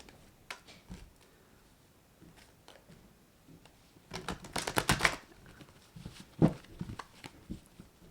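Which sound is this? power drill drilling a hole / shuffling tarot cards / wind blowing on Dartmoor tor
shuffling tarot cards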